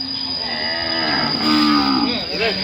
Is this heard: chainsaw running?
no